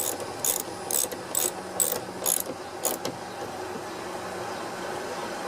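A ratchet cranks a 12 mm bolt on a Toyota lift gate piston in six quick bursts of clicking, close and crisp over a steady background hum, then falls quiet.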